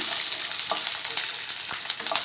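Green chillies, ten of them, sizzle in hot oil in a pan along with coriander stems, giving a steady crackling hiss broken by a few light stirring clicks, close up with no talk.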